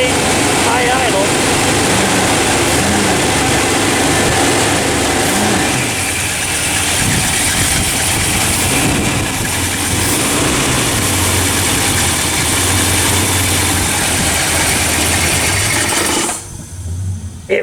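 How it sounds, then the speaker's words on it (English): A car engine idles at high idle in a garage, a loud, steady, close rumble lasting the whole stretch with only slight changes in pitch. "It will idle like this all day long."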